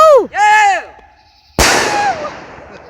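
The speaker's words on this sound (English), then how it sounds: "That's some big fireworks" A large firework bursts with a single sharp loud bang followed by a crackling, decaying rumble, preceded by a whooping shout from a person nearby.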